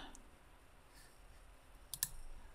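A computer mouse clicks twice in quick succession to select a CSV file. The clicks are faint and near, set against a quiet background hiss.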